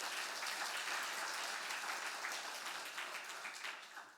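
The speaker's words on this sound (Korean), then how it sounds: "다시 한번 우리 경례 박수 한번 해주세요" A congregation applauds at a Saturday dawn church service, a dense, even patter of many hands that holds steady for several seconds and then thins out toward the end.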